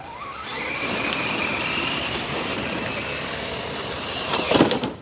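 An RC trail truck driving and shifting into second gear, its small motor whining steadily with a rising electric pitch, close and moderately loud, ending in a clattering burst of noise.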